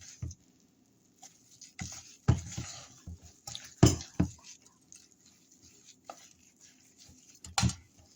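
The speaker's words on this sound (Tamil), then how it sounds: "இப்போ நல்லா கலக்கிட்டு ஒரு மாவு டெக்ஸ்சருக்கு வரணும்." Biscuit dough with salt added is mixed in a bowl, giving irregular wet pats, squelches and soft knocks at close range with quiet pauses between bursts and no talking.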